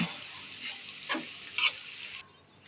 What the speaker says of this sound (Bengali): এগুলোকে এবার কুচি কুচি করে ওই একই তেলের মধ্যে একটু হালকা করে ভেজে নিচ্ছি